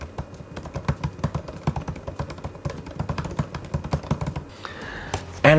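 Rapid, crisp key taps on an M2 MacBook Pro laptop keyboard, close and clear in a quiet room, an irregular stream of light clicks with no voices.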